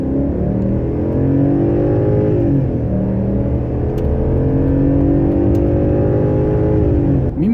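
A 1994 BMW 740iA E38 saloon heard while driving, its engine droning loudly and steadily with smooth rises and falls in revs as it accelerates and shifts gear, heard from close by with no talking.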